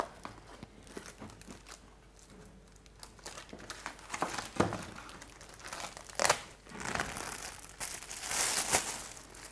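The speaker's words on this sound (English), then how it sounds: "And then just put it into a plastic bag" A plastic bag crinkles and rustles as a damp tie-dyed pillow is pushed into it, with irregular bursts of close crumpling and crunching that grow busier toward the end, and no talk.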